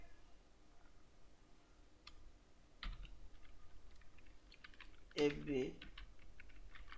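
Soft keystrokes on a computer keyboard while a watermark name is entered in Microsoft Word 2021, sparse and faint clicks with a brief voice partway through.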